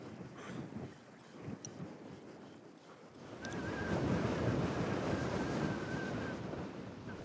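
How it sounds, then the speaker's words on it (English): Strong wind blusters over a river in Patagonia, buffeting the microphone with a low rumble that grows louder and more sustained partway through, with faint water movement underneath and no voices. "It's a bit windy tonight"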